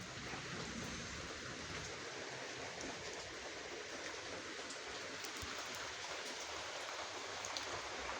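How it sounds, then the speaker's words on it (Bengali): Steady rain falls continuously at a moderate level, a dense hiss of drops with no break and no talking. "এত বৃষ্টি ভালো লাগে।"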